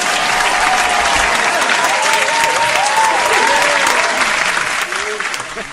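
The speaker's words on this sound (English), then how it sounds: "We got to give Sammy some applause." Sustained, loud audience applause fills the whole stretch, dense and steady clapping from a crowd, with voices faintly underneath and a slight fade at the end.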